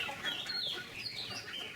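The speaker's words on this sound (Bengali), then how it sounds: "এই মুরগিগুলো কি লেয়ার মুরগি?" Egg-laying hens on a chicken farm cluck softly and continuously, several birds overlapping at a moderate distance with no voices.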